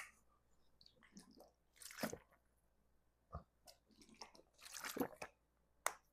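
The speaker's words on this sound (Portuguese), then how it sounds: "mais 2 goladas de água" Water being drunk in a few separate gulps, close-up swallowing and wet mouth sounds spaced irregularly with quiet pauses between them.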